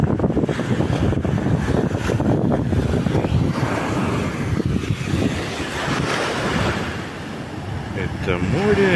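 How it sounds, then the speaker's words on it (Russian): Sea waves wash and break continuously on the shore at Mui Ne, Vietnam, with a rushing surf sound, mixed with gusting wind buffeting the microphone under cloudy skies; a brief voice appears near the end. "Это море."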